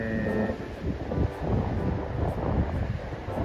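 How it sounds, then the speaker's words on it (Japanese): Fairly strong wind gusts across the microphone on a sunny coastal outlook near the Shiretoko mountains, a steady rushing roar with low buffeting swells throughout. "風が若干強いんですけど吹いてます。"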